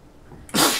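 A single sharp sneeze bursts out close by after a quiet moment, loud and breathy.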